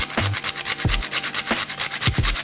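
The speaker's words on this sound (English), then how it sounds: "We're going to grate in our nutmeg." Whole nutmeg grated over a pot of coconut-milk rice pudding, four short scraping rasps in an uneven rhythm, close and clear, with no talk.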